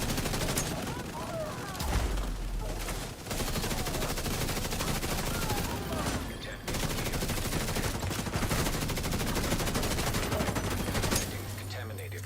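Gunfire from three different weapons in The Division 2, with sustained dense bursts and rapid automatic fire running nearly nonstop, loud and close, briefly dropping out around the third and seventh seconds before resuming.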